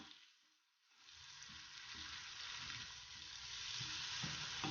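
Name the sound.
tomatoes and spices frying with ginger, garlic, onion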